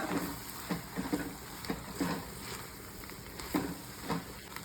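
Coconut frying with surul keerai greens in a pan: a steady soft sizzle with occasional stirring knocks, quiet and close.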